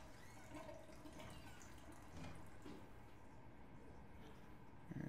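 A toilet flushing in a bathroom in the video game SOMA: faint, continuous running and trickling water with small drips, ending in a sudden louder gush, with no talking.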